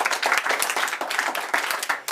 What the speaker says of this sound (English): Can we have a lovely round of applause for my gorgeous assistant?